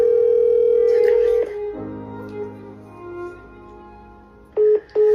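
A telephone line gives a steady dial tone, then ringback tones, with muffled line noise in between and two short tone bursts near the end.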